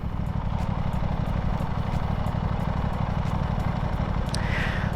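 Low, steady motorcycle engine idling and puttering as the bike slowly turns around, moderately close and unbroken, with no talking.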